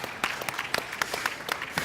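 A small panel audience at an investment-trends talk claps, a thin patter of separate hand claps at a steady quick rhythm, moderately close and fairly quiet.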